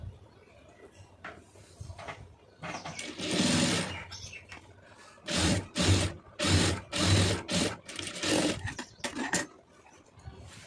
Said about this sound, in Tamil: இந்த மாதிரி கரெக்டாக வச்சுட்டு வந்து இந்த ஒட்டில் வந்து தையல் போட்டுருங்க